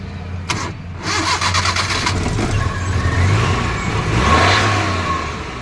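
A Maruti Omni pickup van's engine cranks with a few quick starter bursts, catches, and settles into a loud, close idle with mild rise and fall in revs.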